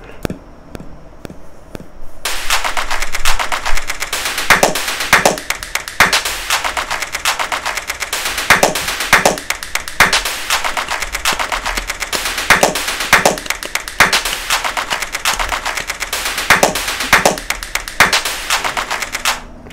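A house beat built entirely from layered clap sounds, loud and steady, with sharp rhythmic hits repeating densely after a quieter opening two seconds.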